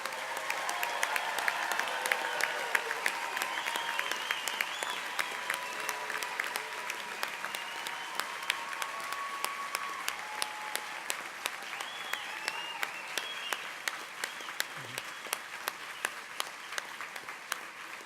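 Guests at a veterinary medicine and biomedical sciences commencement at Colorado State applaud the new graduates, a sustained crowd of clapping filling a large hall for nearly twenty seconds with faint cheers.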